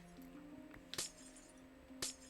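Two brief, bright glass-breaking clinks from Minecraft, about a second apart, sounding over faint steady game tones.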